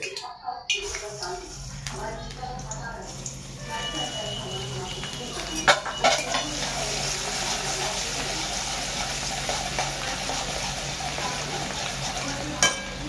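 Garlic dropped into hot oil in a home kitchen for a chicken liver masala, giving a steady close sizzle with stirring scrapes and a few sharp clinks, while someone talks over it throughout.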